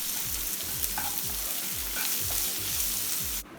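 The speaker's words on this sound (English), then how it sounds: "Add chopped onions, also some salt and saute until the onions become soft." Chopped onions, garlic, ginger and green chilies sauté in a pan with salt, giving a steady close sizzle broken by repeated rhythmic scraping strokes of a stirring spoon.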